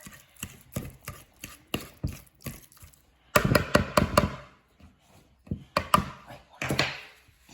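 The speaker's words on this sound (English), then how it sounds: "we got to mash it up with the fork" A fork mashes cooked sweet potato in a bowl with a run of sharp taps and scrapes, steady at first and then in louder, quicker clusters, close and alone.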